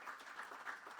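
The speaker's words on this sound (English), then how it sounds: "we should give a round of applause to Mr. Tiwari and his family" A crowd at an outdoor terminal groundbreaking ceremony in Bartica applauds for a family, a faint, distant patter of clapping that swells slightly in a short burst.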